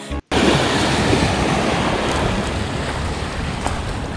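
Wake waves from two passing ocean liners wash steadily against the shore at a fishing spot, a continuous loud surf-like rush mixed with wind buffeting the microphone.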